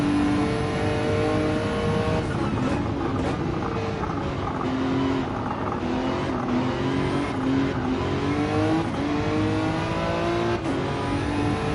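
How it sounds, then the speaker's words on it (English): A turbocharged car in Gran Turismo 7 with its engine revving and shifting continuously, the turbo fluttering and chattering in quick bursts between gear changes, loud and close throughout. "It's like turbo. Chattering away."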